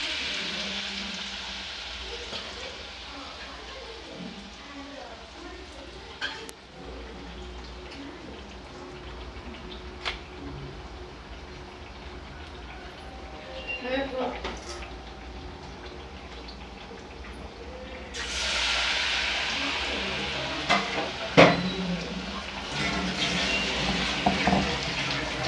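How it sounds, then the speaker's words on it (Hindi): Potato pakoras deep-fry one by one in hot refined oil in a kadhai, giving a steady close broadband sizzle with scattered sharp crackles and a few clinks, swelling louder toward the end, with no talk. "अब हम एक एक करके पहले आलू की पकौड़ियों को तलेंगे"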